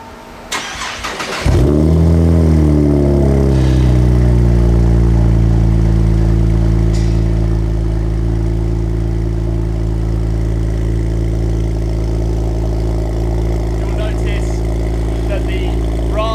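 A Cadillac ATS-V fitted with a ZZP exhaust fires up with a sharp starter crank and a deep, loud burst, then settles into a steady rumbling idle with low, throbbing tones that continues for several seconds.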